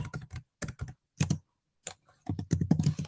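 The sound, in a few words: hard typing on a computer keyboard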